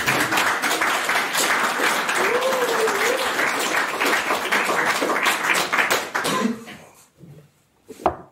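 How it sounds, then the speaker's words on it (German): Audience at a bookshop reading clapping in a lively round of applause that holds steady for several seconds, then thins out and stops, leaving a few stray sounds. "Kleinen Applaus vielleicht"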